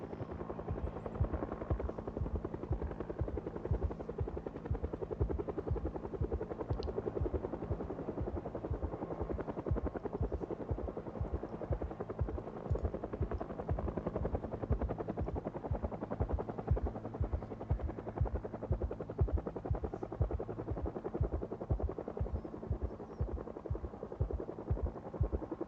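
Helicopter flying past in the Project Zomboid video game: a continuous rhythmic rotor thump with a low engine drone, steady and fairly faint throughout, with no voices.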